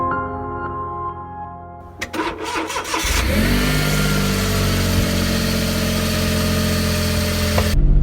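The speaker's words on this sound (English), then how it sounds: "She starts. This is the first drive in my smart car." A small Smart ForTwo Passion 450 engine cranks briefly with a few clicks, catches and starts, then settles into a steady close idle, with no voices.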